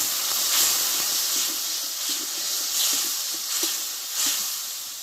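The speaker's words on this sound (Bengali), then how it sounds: "এবার অল্প একটু জল দিয়ে মশলাটা আমি কষে নেব" Spice masala with a little water is being cooked down in a pan for a village-style cauliflower and small fish curry, giving a continuous hissing sizzle with gentle periodic surges as it is stirred.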